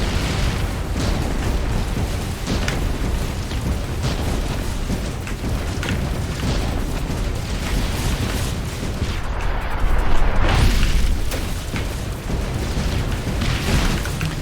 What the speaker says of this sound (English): Gotta bomb the tanks.